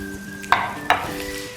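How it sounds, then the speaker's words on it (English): Almonds, raisins and chopped apricots being stirred in a pan, two short scraping strokes over a soft steady background hum, close and fairly quiet. "Just going to stir to combine this."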